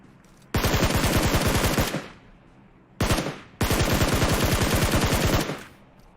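Automatic gunfire from the PUBG Mobile video game sounds in two long, loud, rapid bursts, with a short burst between them and brief quiet gaps.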